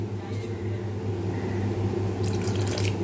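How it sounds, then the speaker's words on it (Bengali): Water pours steadily onto dry ground spices in a bowl, a continuous close splashing stream that stays constant throughout, with no speech. "একটু বেশি করে জল দেবো"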